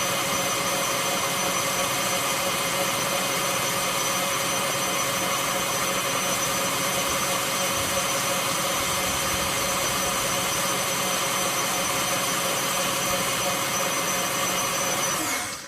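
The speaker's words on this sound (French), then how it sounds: "Laissez votre robot marcher à peu près un petit 5 à 10 minutes" Stand mixer running at maximum speed while whipping American buttercream, a loud steady motor whine with constant high-pitched hum, unbroken for about fifteen seconds before cutting off at the end.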